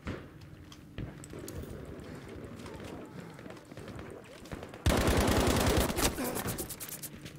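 Battlefield V gunfire crackles in rapid bursts, with a quieter stretch of scattered shots giving way to a loud, sustained volley near the end, amid chaotic game sounds.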